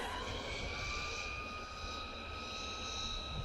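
A HOSIM M12 brushless RC buggy motor running on a 2S battery gives a steady high-pitched electric whine with a constant tone, heard at a moderate distance, with no talk over it.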